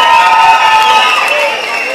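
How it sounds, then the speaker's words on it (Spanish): Audience at a sonidero dance event gives a short, loud burst of cheering and applause for the children's ballet show. "que se escuche ese aplauso"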